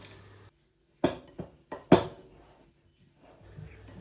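Several sharp clinks of a spoon against a bowl while mixing ingredients for an apple pie base, a few scattered knocks and scrapes with quiet pauses between them, close by.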